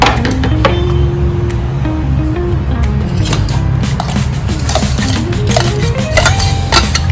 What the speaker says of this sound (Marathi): आपण एकदा परत आपण मिक्सरमध्ये थोडं फिरून घेऊया